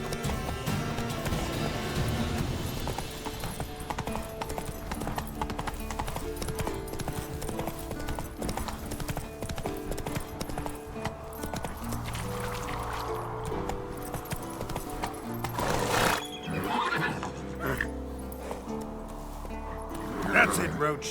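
Hoofbeats of Geralt's horse Roach galloping steadily through The Witcher 3: Wild Hunt, with a brief whinny, all under a continuous game music bed and a voice urging the horse on.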